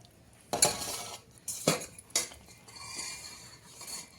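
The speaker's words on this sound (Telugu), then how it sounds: "ఈ పిండిలో పోసుకుంటూ కొంచెం కొంచెం పోసుకుంటూ మనం కలుపుకోవాలి పిండిని" Shakarpara flour dough mixed in a bowl as lukewarm sugar syrup is added bit by bit, with a few scraping, clinking strokes of a utensil against the vessel, close and moderately loud, without speech.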